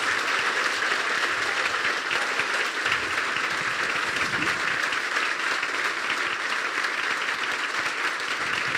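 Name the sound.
congregation clapping loudly in church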